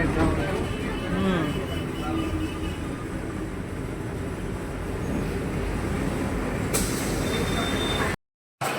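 A metro train at a station in Ahmedabad gives a low, steady rumble and roar across the whole stretch, with voices talking over it and a short drop to silence near the end.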